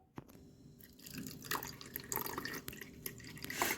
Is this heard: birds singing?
no